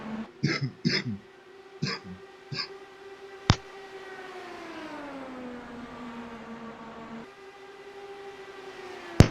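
A few sharp coughs and throat clearing at the start of an IndyCar race broadcast from Kentucky, followed by a faint engine whine that glides steadily down in pitch.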